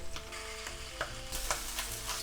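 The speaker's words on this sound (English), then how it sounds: "once it starts hearing the sizzling sound, you wanna turn the heat to low" Steady frying sizzle with crackling pops and a few utensil clinks, close and moderately loud, no voices; chicken meatballs on skewers cooking in a pan over low heat.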